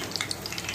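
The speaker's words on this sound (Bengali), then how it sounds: "আর এই পটলটাকে আমি ভাজছি" Pointed gourd (potol) frying in a pan with onion, chilli and crushed tomato nearby, giving a steady close sizzle with small crackling pops throughout.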